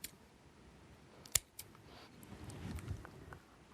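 Scissors snip through bolduc ribbon wrapped around an object, with one sharp close cut standing out amid faint clicks and a soft rustling rise afterward, no talk.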